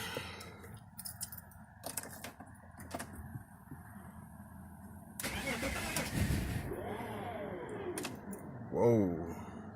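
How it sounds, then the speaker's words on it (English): A BMW E46 with a starting problem cranks in bursts, then its engine catches and revs briefly near the end, close by, with some voices and clatter mixed in. "So let's crank this car up."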